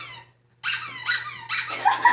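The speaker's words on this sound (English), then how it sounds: "Okay, squeaky sound effect." A squeaky sound effect: three loud, high, wavering squeals in quick succession after a brief silence, close and clear with no talking over them.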